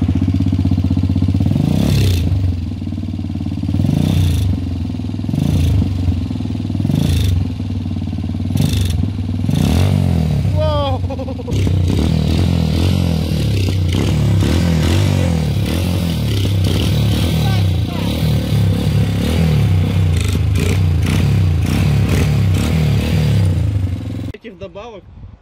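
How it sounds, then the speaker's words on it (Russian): A motorcycle engine running on old diesel fuel, with a loud, rough, uneven idle and repeated throttle blips and revs, while people talk nearby throughout. "Тупо на соляре работает мотик."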